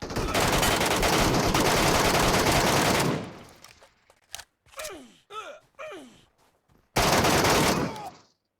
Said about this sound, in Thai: น้องจอนยิงโคบให้หน่อย